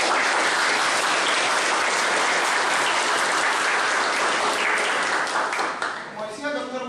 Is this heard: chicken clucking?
no